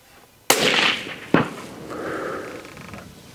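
A rifle is fired at a target 200 metres away outdoors. A sharp, loud crack is followed by a second report and a fading, rumbling tail.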